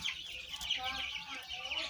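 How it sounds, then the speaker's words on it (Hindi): A roughly two-year-old champion Lasani rooster clucks and calls repeatedly at close range, its bursts of sound coming in quick uneven succession. "मेरा चैंपियन मुर्गा"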